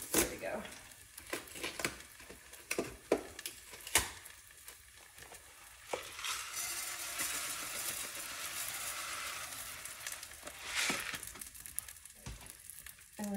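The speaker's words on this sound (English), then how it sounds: "just give this a nice stir to toast it" Dry orzo is stirred and toasted in fat in a skillet, with a low sizzle and scraping, rustling stirs and a few sharp clicks against the pan.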